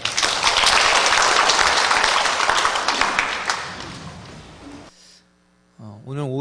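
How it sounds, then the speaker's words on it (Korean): A church congregation at a Sunday afternoon worship service breaks into a burst of applause that rolls on loudly for several seconds, then thins out and stops, followed by a quiet hum and a brief voice. "하나님께 영광의 박수 올려드리도록 하겠습니다."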